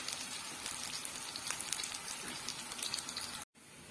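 Garlic and tomatoes sauté for moussaka, giving a close, steady crackling sizzle that runs continuously before cutting out briefly near the end and resuming more quietly.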